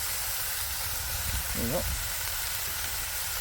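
Spam and potatoes frying in a pan on a Trangia stove outdoors, a steady loud hiss and sizzle throughout, with a brief spoken remark in the middle.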